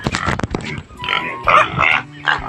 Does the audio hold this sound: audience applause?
no